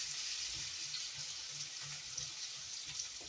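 Sweet potato fries sizzle in cooking oil with a soft, steady frying hiss and faint bubbling pops, fairly quiet and uninterrupted.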